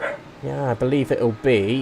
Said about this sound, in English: Sorry if you can hear the dog barking.